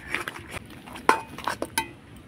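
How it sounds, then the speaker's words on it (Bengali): A spoon scrapes and clinks against a pot as a watermelon dessert mixture is stirred, giving several close, irregular metallic taps over quiet background. "এভাবে অনাবর্ত নাড়তে নাড়তে একটা দইয়ের পরিণত করে নেব।"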